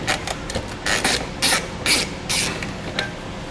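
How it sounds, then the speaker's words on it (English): A 7mm socket working a bolt out of a metal bracket on a 2016 Chevrolet Colorado: a string of short, bright metallic clicks and ratcheting bursts, close and fairly loud, with no voices. "Grab our 7mm socket and we'll pull that bolt out."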